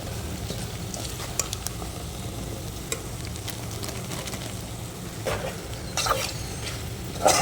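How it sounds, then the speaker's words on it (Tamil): Coriander powder and garam masala frying in oil for a potato kulambu, a continuous close sizzle with occasional stirring scrapes and clinks. "கொஞ்சம் நல்லா எண்ணெயில் வதங்கட்டும்."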